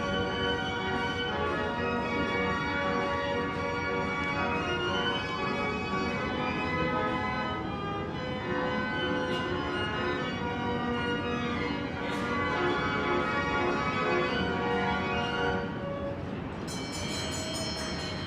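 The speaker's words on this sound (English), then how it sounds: "Let's hear the bell." Idora Park Carousel, a 100-year-old carousel, plays loud sustained organ music with bright bell-like tones ringing through it, steady and close, with a brighter metallic ringing near the end.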